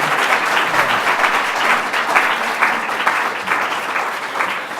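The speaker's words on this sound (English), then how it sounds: "Big round of applause for our panel." An audience gives a panel on the costs of homelessness a big round of applause, a loud, continuous crackle of many hands clapping nearby that tapers slightly at the end.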